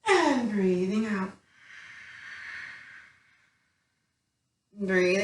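A deep, slow exhale during a guided breathing exercise, a soft breathy rush lasting about two seconds that fades out, set between stretches of calm spoken instruction.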